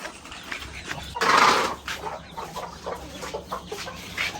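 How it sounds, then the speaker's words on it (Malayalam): A small brood of four or five newly hatched ducklings peeps and chirps close by, with one loud, rough burst of calls early on followed by scattered shorter cheeps. "നമ്മുടെ താറാവുകൾ ഇന്നലെ രാത്രി തുടങ്ങി വിരിഞ്ഞു തുടങ്ങിയിട്ടുണ്ടായിരുന്നു"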